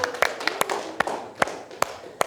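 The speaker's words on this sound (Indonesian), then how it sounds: "Kasih tepuk tangan untuk temannya dulu." A few students in a classroom give their classmates a sparse round of clapping. About seven sharp, separate claps come at uneven intervals over a faint background hum.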